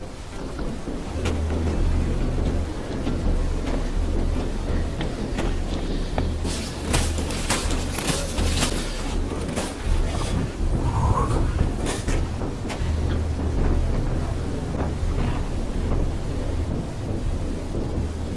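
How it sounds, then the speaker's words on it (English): A small plane's engine keeps running on the ice in Antarctica, a continuous low rumble mixed with gusting wind buffeting the microphone, with bursts of crackly noise midway. "The plane's engine is still on"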